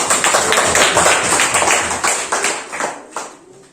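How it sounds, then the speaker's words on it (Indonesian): Classroom applause, a burst of many hands clapping loudly and close by, fading out toward the end. "Tepuk tangan buat teman-teman kita yang sudah berani menerapkan ini."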